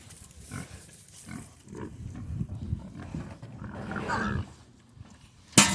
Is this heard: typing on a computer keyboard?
no